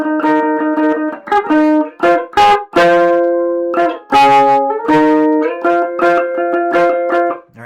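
An amplified ukulele plays a riff, bright and chiming with strong treble, in quick strummed bursts of repeated chords over several seconds, loud and close with no voice.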